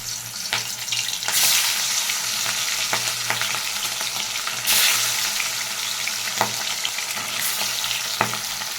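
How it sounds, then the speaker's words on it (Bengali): Fish pieces marinated in salt and turmeric frying in hot oil in a wok produce a steady, close sizzle with crackling spatter and occasional louder hissing surges and utensil taps, without any talking. "মাছগুলোকে আমি ভেজে নিচ্ছি এক এক করে।"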